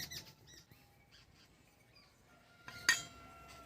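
A kadai goes down on a home stove with a single sharp metallic clank near the end, preceded by light clinks and faint kitchen rustling, with no talking.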